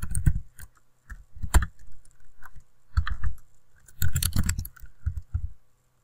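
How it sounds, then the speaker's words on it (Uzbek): Numbers being entered on a computer keyboard while a Kotlin program runs, heard as quick bursts of key clicks in short clusters with pauses between, close and fairly clear with no talking. "Endi biza klaviaturadan son kiritamiz dastur ishga tushgandan keyin."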